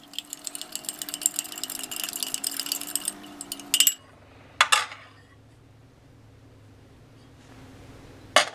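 Stirring a Russian freeze-dried ration meal with water, a close scraping and rattling of a utensil in a pouch with gritty rustling, then quiet with a couple of sharp clinks.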